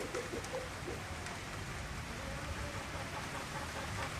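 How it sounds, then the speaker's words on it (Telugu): Sudden rain falls on a hot day at a farm breeding unit, a faint, steady patter of drops on surfaces with a soft continuous hiss and no voices. "ఫుల్ వేడిలో సడన్గా క్లౌడ్స్ వచ్చేసి వర్షం స్టార్ట్ అయింది"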